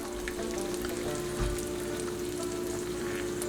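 Eggs frying in hot grease in a cast iron skillet, a steady close crackling sizzle with fine popping spatters throughout and no talk.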